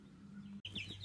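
Farm chickens clucking and chirping quietly near the farmer, soft scattered calls with a brief dropout and a high chirp afterward, over a low background hum.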